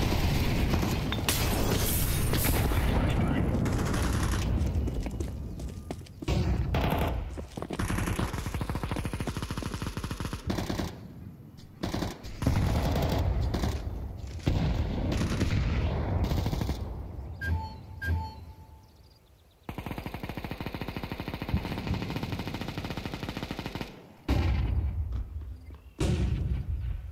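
Machine gun fire in Counter-Strike 2, with long loud automatic bursts broken by short gaps, sharp single shots and a booming hit, dense and close throughout.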